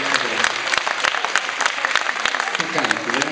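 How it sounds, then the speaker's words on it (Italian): Live concert audience in Lugano, Switzerland, applauding during a duet performance: a dense, continuous wash of many hands clapping close and loud, with scattered sharper claps standing out and voices mixed in. "facciamo un applauso"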